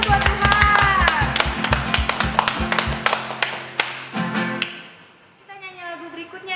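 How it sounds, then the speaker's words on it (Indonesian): Children's church congregation clapping hands in a fairly steady rhythm of repeated claps, with voices singing and talking over it before the clapping fades and a single voice speaks alone. "Ya, kita tepuk tangan yuk buat Tuhan."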